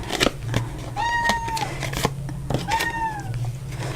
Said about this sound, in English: And I have to apologize for my cat meowing.